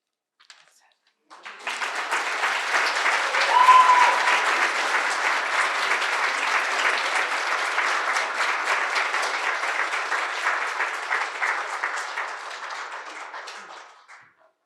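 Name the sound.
audience applause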